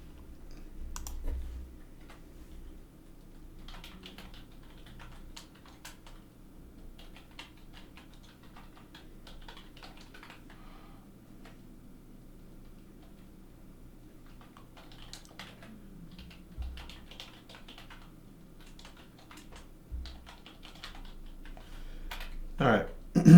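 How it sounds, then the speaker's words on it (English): Code typed on a computer keyboard, quiet bursts of key clicks scattered over a low steady hum, with pauses between runs and a louder thump near the end. "You guys don't need to really watch me type this all out."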